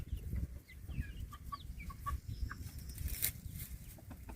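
Grey chickens and a rooster on a farm cluck and chirp softly at a distance over low rumbling background noise, with a few short, scattered calls.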